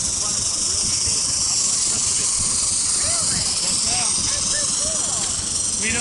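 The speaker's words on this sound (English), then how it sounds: "That engine's running on real steam" Loud, continuous hiss from a steam-powered locomotive on a run-by, steady and close throughout, with faint chirpy squeals riding over the roar.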